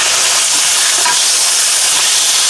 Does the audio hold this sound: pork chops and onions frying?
yes